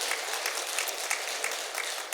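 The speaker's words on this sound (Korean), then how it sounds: "우리 서로 박수로 한번 격려하도록 하겠습니다" A church congregation claps together in warm, continuous applause after the appointment of church officers, dense and even throughout with no speech.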